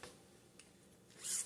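A zipper is pulled along the zipper pocket of a handmade bag, a single short, close rasping zip with a brief scratch just before it.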